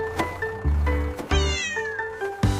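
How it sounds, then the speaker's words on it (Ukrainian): A cat meows several times in quick succession, loud and close, with drawn-out wavering cries and short pauses between them. "Це котик."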